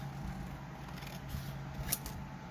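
Scissors snipping through napkin paper, a few quiet close crisp cuts against a faint background hum.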